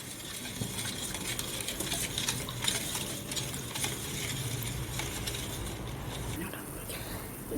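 Sugar syrup for laddu stirred continuously in a pan, a busy scraping and bubbling texture with faint sizzling and utensil clinks, close and steady throughout.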